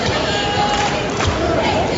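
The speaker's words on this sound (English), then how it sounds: "Crowd filing in." Crowd noise fills a high school basketball gym at a regional game, a dense steady murmur of many voices and movement with no single speaker standing out.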